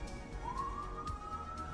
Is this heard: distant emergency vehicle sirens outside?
yes